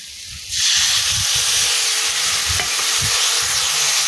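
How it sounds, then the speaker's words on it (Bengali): Fig curry being sautéed in a pan, a loud continuous hiss and sizzle that swells up after a brief quieter start, with rhythmic low scraping strokes of a spatula stirring through it. "ভালো করে কষিয়ে নিচ্ছি, নিয়ে এর মধ্যে আমি অল্প পরিমাণে সামান্য জল দিয়ে দেবো।"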